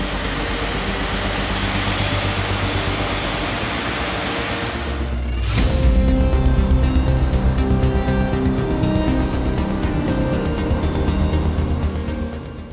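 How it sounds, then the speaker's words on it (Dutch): A steady loud roar suddenly deepens as an aircraft's number two engine starts up at Schiphol, settling into a powerful, constant drone with a low hum underneath. "Komt hij aan, motor 2. Motor 2 komt aan."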